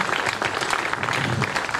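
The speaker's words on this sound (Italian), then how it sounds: "applausi, applausi, applausi" Applause from an audience for Marinella Rodà and the Corde Libere string orchestra at the Premio Demetra 2019 event: dense, steady clapping filling the whole stretch at even loudness with no voices over it.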